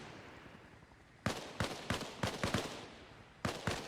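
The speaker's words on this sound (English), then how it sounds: "Insurgent fires through the smoke," Insurgents firing in a video game battle at an outpost, a string of sharp, loud gunshots in an uneven rhythm after a quiet start, then a final pair of shots.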